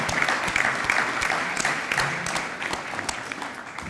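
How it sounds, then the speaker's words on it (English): Steady applause from a graduation senior breakfast crowd honoring first-generation faculty and staff, a continuous wash of many hands clapping at moderate distance without letting up. "give them a round of applause"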